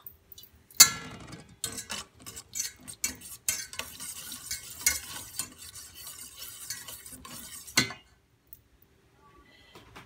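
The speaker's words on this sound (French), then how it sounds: "Maintenant, on va tout mélanger." A spoon stirs shallots through a sauce in a pan, giving a quick run of close scraping and clinking strokes that stop abruptly near the end, followed by near silence.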